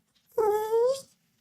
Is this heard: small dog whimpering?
yes